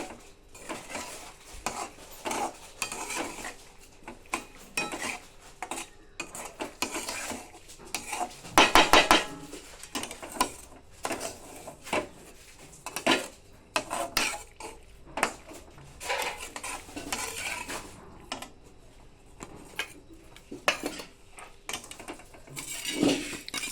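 Chopped coriander being stirred into pasta in a pan for a quick breakfast, with repeated scraping clinks of a metal spoon against the pan, irregular taps and one louder clatter midway, no talking.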